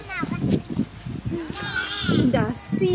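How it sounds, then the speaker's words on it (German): Goats at Opel Zoo bleat in short wavering calls, several in quick succession at close range, mixed with children's voices talking nearby. "Sind das Ziegen?"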